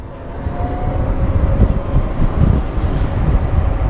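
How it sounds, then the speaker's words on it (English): Steady low wind buffets the microphone in a continuous rumbling roar, with no voices. "It is a little windy."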